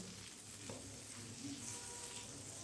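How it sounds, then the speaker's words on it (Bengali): Slices of bread fry in butter in a pan with a soft, continuous sizzle, faint and even throughout, with no voices. "আমি আরও একটু বাটার দিয়ে দিলাম যাতে করে এই পাউরুটিগুলো আরও ভালোভাবে ভাজা হয়ে যায়"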